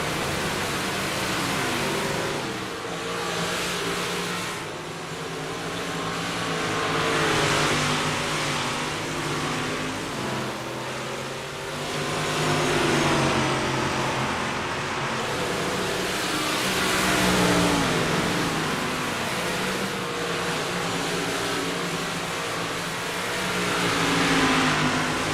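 Packed 358 modified race cars in iRacing roar continuously, a dense layered engine drone that swells and fades as the field passes, with no voices.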